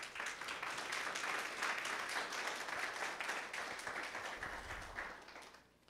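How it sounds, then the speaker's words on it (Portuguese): A congregation at a Bible study claps in a sustained round of applause, steady and full for several seconds before tapering off at the end. "Aplaude porque para Jesus"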